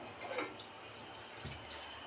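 Water splashes and trickles steadily for a couple of seconds, close and fairly soft, with a faint gush partway through and no talking.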